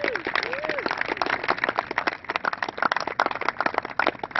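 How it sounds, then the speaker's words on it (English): Crowd applause for the Tuskegee Airmen at a U.S. Army ROTC 100-year celebration, dense sustained clapping from a large audience with scattered voices and cheers mixed in throughout. "let's give our Tuskegee Airmen a round of applause."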